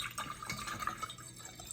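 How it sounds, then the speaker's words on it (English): Water is poured into a vase to fill it for a plant cutting, giving soft, close trickling and splashing that stays quiet and continuous for under two seconds, with no voices. "I'm just going to take some water here, and I'm going to put it in the vase, and I'm going to fill it all the way up to the top."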